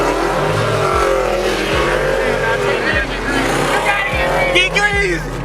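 Muscle cars, a Dodge Scat Pack and a green Hemi, race on a city street, loud engines roaring and revving hard through repeated gear changes close by, with voices talking over the din.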